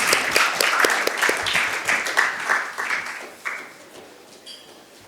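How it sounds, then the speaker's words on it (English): An audience at an HR conference panel breaks into a round of applause, dense clapping close by that thins out and fades over about four seconds into quiet. "A big round of applause for our FemPower."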